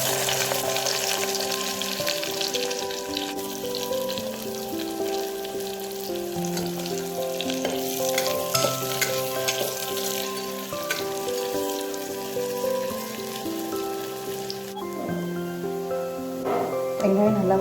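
Onions with cinnamon, cloves and cardamom frying in hot oil for chicken curry, a continuous dense sizzle with stirring scrapes, steady and close, while music plays alongside.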